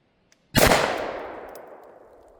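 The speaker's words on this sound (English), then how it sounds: "We're starting with a 180 grain full metal jacket out of a Glock 40 10 millimeter." A single loud, close shot from a Glock 40 10 mm firing a 180-grain full metal jacket round into an airplane window: a sharp crack followed by a long, fading reverberant tail.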